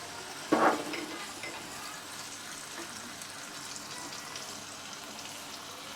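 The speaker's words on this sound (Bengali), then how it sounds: "আমি আর সামান্য একটু তেল দিব। প্রথমে আমি পেঁয়াজ বাটাটা দিয়ে দিচ্ছি।" Onion paste drops into a little hot oil in a pan, giving a short loud splash of sizzle followed by a steady, even frying hiss, close by with no talking.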